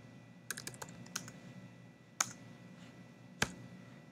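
Keystrokes on a computer keyboard while working in the Vim text editor: a quick cluster of light clicks early on, then a few isolated, sharper taps spaced apart, close and fairly quiet with no talking.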